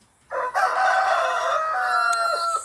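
A rooster at a chicken farm crows once, loud and close, a single drawn-out cock-a-doodle-doo lasting about two seconds against a quiet background.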